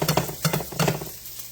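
Sweet Italian sausages sizzle in a frying pan, with repeated bursts of stirring or spatula scrapes over a steady crackle that fades toward the end.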